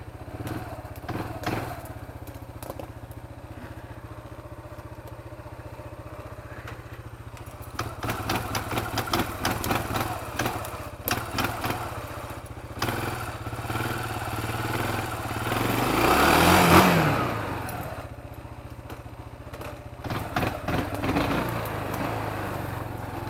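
Kawasaki Bayou 250 quad with a K&N dry-element air filter, its engine running steadily throughout, with a rougher, busier stretch midway and a brief louder rev toward the end; no talking.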